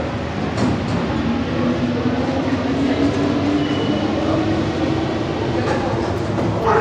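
A Paris metro train runs with a steady loud rumble and rising motor whine, the carriage rattling continuously while people talk over it.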